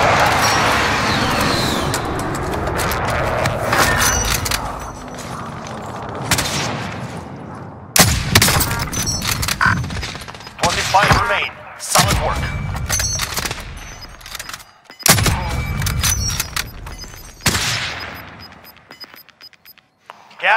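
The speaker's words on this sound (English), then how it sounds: "Allied precision airstrike incoming." Airstrike explosions and bursts of gunfire in a video game boom and crackle loudly in repeated volleys, with short gaps, game voice callouts mixed in.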